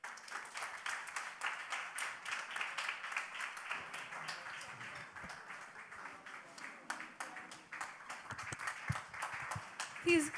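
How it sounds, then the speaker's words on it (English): Applause from an audience at a college lecture and prize-giving day: dense, continuous clapping, fairly faint and distant, rolling on for the whole stretch with a slight swell near the end. "Please give him another round of applause."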